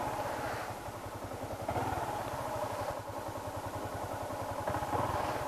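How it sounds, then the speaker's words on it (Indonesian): A manual-transmission motorcycle idles close by, its engine putting out a steady, fast low putter with light mechanical clatter, running continuously and without talk. "Ganun lang kadali mag-drive ng manual na motorcycle na motor."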